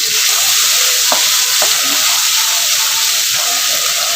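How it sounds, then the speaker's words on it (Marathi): Chili, ginger and garlic masala frying loudly in a pan, a dense continuous sizzle and hiss close up, with a couple of brief scraping stirs and no speech. "एक चमचा मी मसाला टाकतो इकडे चांगला आपण हलवून घेऊया याला"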